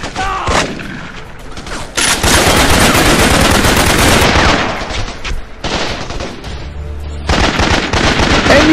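Machine gun fire in the jungle combat video game Raven Squad: Operation Hidden Dagger, loud sustained rapid bursts of automatic fire with brief pauses between volleys, close and dense.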